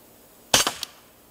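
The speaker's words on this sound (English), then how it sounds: "It's a BB pistol, CO2 BB pistol" An Umarex Colt Commander CO2 BB pistol fires once with blowback, giving a close, sharp crack followed quickly by two quick mechanical clacks of the slide cycling, alone against faint background hiss.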